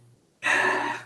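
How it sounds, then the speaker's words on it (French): A single deep open-mouthed yawn during a larynx relaxation exercise, starting abruptly after near silence and sustaining as a breathy, airy exhale close to the microphone. "prise de bâillement sans fin."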